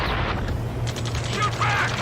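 Gunfire in the video game Ace Combat 7 crackles as rapid, close bursts mixed with mechanical clatter, while voices shout over the shooting.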